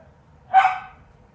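One sharp bark from a house dog sounds once, fairly close and loud, fading quickly into a quiet room.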